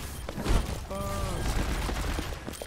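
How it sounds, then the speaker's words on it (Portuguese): Rapid bursts of McCree's gunfire in Overwatch crackle amid busy game sound effects, with a short tonal chime cutting through partway. "Eu não acerto nenhum tiro do McCree."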